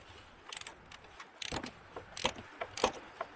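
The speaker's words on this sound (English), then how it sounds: "This ratcheting wrench seemed like a much better fit." Ratcheting wrench turning a front shock bolt on a 1994–2002 Dodge Ram 2WD in tight quarters, giving several short bursts of metallic clicking separated by brief pauses, close and fairly quiet.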